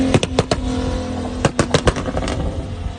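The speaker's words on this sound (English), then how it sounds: "Here's the black Supra going all of its glory." Black Toyota Supra, apparently a small RC model, driving past with a steady motor whine broken by several short bursts and pops, fairly close and with no talk.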